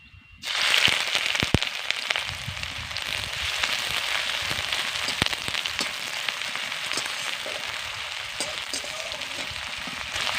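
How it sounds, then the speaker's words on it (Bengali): Chopped onions hit hot oil and burst into a steady, loud sizzle that carries on without a break, cooked for a tomato and potato curry after lentil dumplings were fried in the same oil. "এবার ওই তেলে আমি দিয়ে দিচ্ছি কেটে রাখা পেঁয়াজ"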